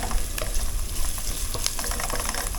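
Garlic, onion and ginger frying in hot oil in a home kitchen. The sizzle is loud, dense and continuous, with scraping stirs and occasional pops, close by and with no voices.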